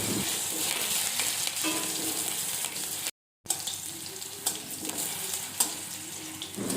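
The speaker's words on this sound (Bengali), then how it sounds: "এই রান্নাতে আমি একটা আলু ব্যবহার করেছি সেই আলুটাকে আমি চার পিস করে নিয়ে ভেজে নেব এখন" Four pieces of potato frying in mustard oil in a wok give off a loud, dense, close sizzle, broken by a brief dropout partway through, with a few stirring knocks and no talking.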